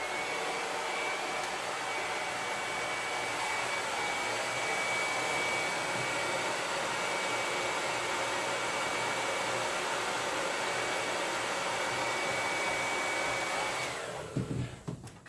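A hair dryer blows steadily to dry chalk on a round welcome chalkboard, a loud continuous rushing whoosh that runs without a break for about fourteen seconds, then cuts off abruptly near the end.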